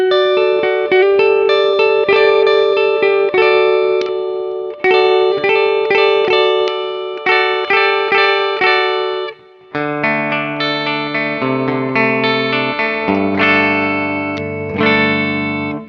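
An electric guitar runs through the Black Knight Clean setting of a Mooer Preamp Live, playing ringing chords and arpeggiated notes with a bright, chorus-like shimmer and reverb, loud and alone with no talking.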